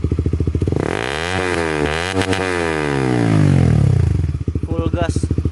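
A Honda CBR150 fitted with a custom exhaust revs at medium throttle, the deep burbling idle climbing into a sustained rising roar that falls back to a throbbing idle, loud and close.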